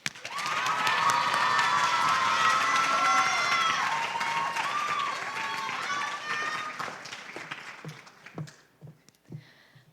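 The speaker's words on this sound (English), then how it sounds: "our next finalist, which we are going to give a warm welcome applause to, is Bella Gill." An audience at a school poetry recital breaks into applause and cheers to welcome a finalist, loud and sustained at first, then thinning into scattered claps and footsteps.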